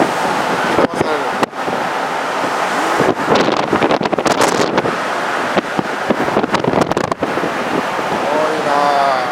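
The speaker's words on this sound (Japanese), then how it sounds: "波が一定じゃないとこんなにさ、あちこちから風も吹いてるとね" Strong gusting wind and rough surf at Inamuragasaki and Shichirigahama after a typhoon passed, with loud wind roaring and buffeting the microphone over the constant wash of heavy sea, broken by sharp gust bursts.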